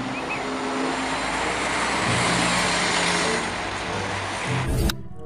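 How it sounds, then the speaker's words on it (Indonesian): A bus rumbles past nearby, its engine and road noise a broad steady roar that builds slightly and then cuts off abruptly near the end. "Wow, kita mendapatkan bus."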